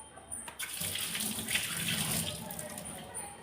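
Tap water runs steadily into a sink while bitter gourd is rinsed under it in a home kitchen, a continuous close splashing flow that starts abruptly and continues for several seconds.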